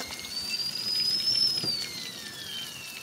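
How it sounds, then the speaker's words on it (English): A kettle whistles with a thin, high rising tone over a soft, steady bubbling hiss, inside a VW T5 camper van. "Perfect. Kettle's boiling for the mash."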